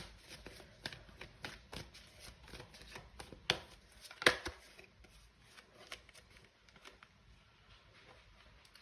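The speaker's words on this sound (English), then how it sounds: "We're gonna pull some more cards." Tarot cards are shuffled and pulled close by, producing quick rhythmic riffling flaps and soft slaps, with a couple of sharper snaps mid-way before the sound fades to lighter handling.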